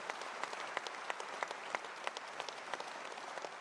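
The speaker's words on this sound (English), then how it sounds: "Give them a round of applause." An audience applauds a radio station's band at a talent show celebration, steady clapping heard from a distance at a modest level with a few sharper individual claps standing out.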